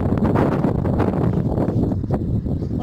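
Strong wind on the Baltic Sea coast buffets the microphone in a steady, roaring rush with slight gusting and no voices.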